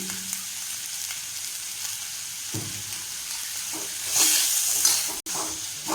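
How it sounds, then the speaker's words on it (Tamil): Sliced big onions sautéing with a little turmeric powder and salt, a steady broad frying sizzle with occasional stirring scrapes and a brief louder burst of sizzle near the end, no talking. "இந்த வெங்காயம் முக்கால் பதம் வதங்கின உடனே வச்சுருக்கோம்"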